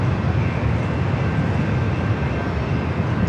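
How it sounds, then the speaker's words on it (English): A train passes near San Diego airport as a steady, loud rumble with broad low-end roar and a faint high whine, continuous throughout with no voices. "Oh, another train."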